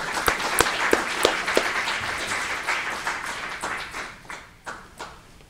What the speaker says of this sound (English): I just want to invite you to lend him a round of applause for coming here tonight